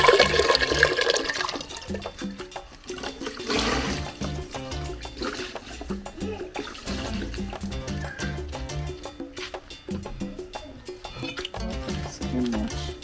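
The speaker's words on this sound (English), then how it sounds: "add water inside this pot" Water pours and splashes steadily into a cooking pot for fufu preparation, a continuous close, gurgling, sloshing stream with no voices.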